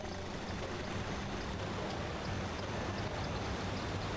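Loud, steady roar of rushing waterfalls in a modded Battle for Bikini Bottom game level, a dense continuous wash of falling water with no break.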